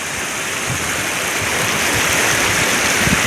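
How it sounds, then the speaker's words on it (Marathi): Clear water in a stream flows steadily, a loud, even rushing hiss that fills the whole moment without pauses. Soft low splashes surface now and then. "एकदम आता वाहत आहे ना पाणी एकदम स्वच्छ आहे ना"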